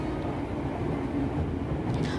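Steady low rumble of a KRL commuter train on the Jogja–Solo line in motion, heard from inside the carriage with fabric seats, a continuous rolling drone with faint background murmur.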